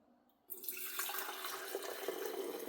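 Stock is poured through a funnel into a mason jar, a near, steady liquid gush that begins abruptly after a moment of quiet and continues evenly.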